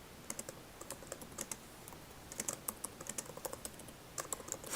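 Typing on a computer keyboard, with quick bursts of clicky keystrokes in short runs separated by brief pauses, close and moderately quiet, no voices.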